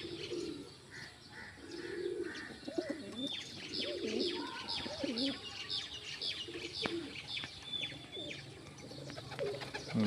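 Pigeons coo repeatedly in low, rounded phrases close by, with chirps and tweets from other birds scattered above and a brief flutter of wings, all without talk.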